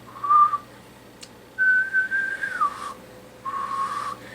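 A person whistles close into a CB radio microphone while testing an old E.F. Johnson Messenger 1 White Face set: three clear whistled notes, short then longer with a wavering glide, then a steady tone.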